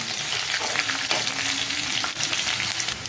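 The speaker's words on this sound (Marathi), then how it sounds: "मी ठेचून घेतला आहे लसूण तोही थोडासा परतून घ्यायचा" Crushed garlic cloves, about a dozen or so, sauté in hot oil for eggplant bharit, giving a loud, close, continuous sizzle with light stirring scrapes throughout.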